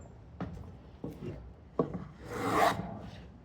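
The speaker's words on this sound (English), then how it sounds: "Now I have it hand planed." Hand plane shaving the edge of a wooden board, a few short rasping strokes followed by one longer, louder swipe, close and quiet with no talking.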